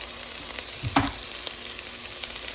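Chopped onion and garlic sizzle steadily in a hot pan for a home-cooked mung bean stew, with a brief louder stirring scrape partway through and continuous frying crackle.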